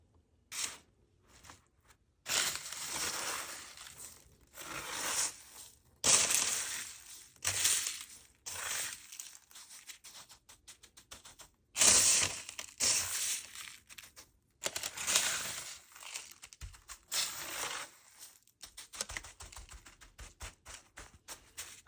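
Raw chicken being coated in breadcrumbs and patted down by hand, a run of dry crunchy crumbling and crinkling bursts in an irregular rhythm with brief pauses, close and fairly quiet, no talking.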